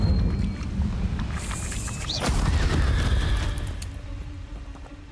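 A fire spell cast in Hogwarts Legacy erupts as a whooshing, crackling magical blast with a rising whistle, loud over a low rumbling game backdrop that fades toward the end.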